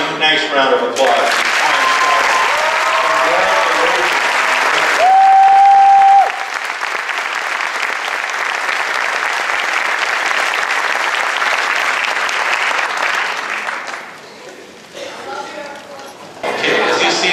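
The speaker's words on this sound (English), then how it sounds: "Let's have one nice round of applause." A room full of people at a senior honors night breaks into loud, sustained applause that runs steadily for a long stretch, then thins out near the end as a voice starts speaking over the scattered claps.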